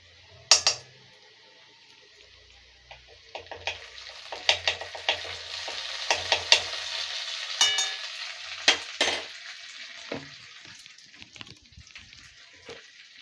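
Finely chopped garlic sizzles in ghee and oil in a pan for a Kolkata-style rui fish gravy, a steady close frying hiss broken by scattered clinks and scrapes of stirring.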